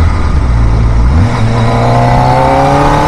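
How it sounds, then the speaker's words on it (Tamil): A 2025 Kawasaki ZX4RR inline-four motorcycle engine revs loudly up close, pitch climbing smoothly after a brief dip. "அந்த ஒரு இன்லைன் 4ஓட சவுண்டு தான் கைஸ்"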